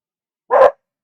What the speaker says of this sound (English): She's probably barking at a bird or something.